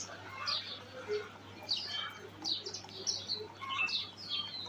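Chickens at a poultry farm beside a biogas plant under construction, giving a steady run of repeated high chirps and calls over a low constant hum, with no talk.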